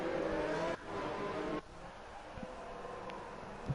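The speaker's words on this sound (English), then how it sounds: "a bit of a just revving the tyres up there, getting a bit of heat into them before the start of the race" Formula 2 race cars in a racing video game rev on the warm-up lap before the start at Singapore, a steady loud engine drone that drops in level twice, with faint voice underneath.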